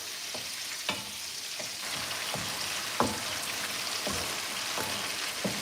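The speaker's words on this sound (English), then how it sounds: "so that I can stir our tomato to make sure that it is not burning" Tomato simmers and sputters in a pan while a spoon stirs it now and then so it does not burn. A steady close sizzle carries sharp clacks and scrapes at irregular moments.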